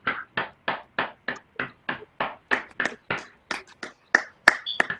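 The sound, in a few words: graduates clapping unmuted on a video call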